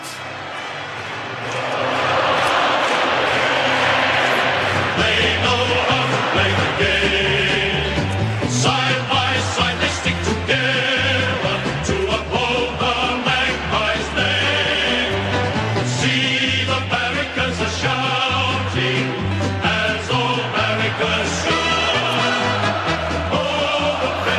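Stadium crowd at an AFL preliminary final, Collingwood against GWS Giants, roaring after the final siren: a loud, sustained wall of cheering with dense musical-sounding layers, swelling after the first two seconds and holding steady throughout.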